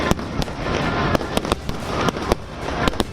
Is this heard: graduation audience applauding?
no